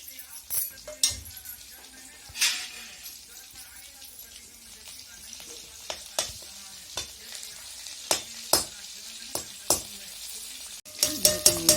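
Garlic sizzles and fries in hot oil while a utensil stirs it, with repeated sharp scrapes and clinks against the pan over a steady crackling hiss, close and fairly loud.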